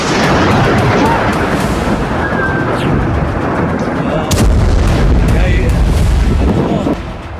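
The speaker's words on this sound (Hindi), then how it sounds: "बालबेक में कई राउंड की बमबारी कर इजराइल ने हिजबुल्लाह के हथियार गोदाम, रॉकेट लॉन्च साइट और कई ठिकानों को तबाह कर दिया।" Israeli air strikes bomb Baalbek in a loud, continuous roar of explosions and rumbling, with a heavier blast surging in midway before the noise drops off near the end.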